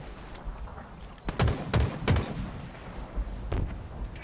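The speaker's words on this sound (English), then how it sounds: "That was a really close grenade." Grenade blasts in Halo Infinite ranked slayer combat, several loud close booms in quick succession with a low rumble, over constant game ambience and scattered gunfire.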